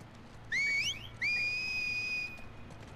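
In The Last of Us Part 2, a piercing whistle signal sounds twice: a short warbling rising phrase, then a long sustained note, clear and close against a low ambient hum.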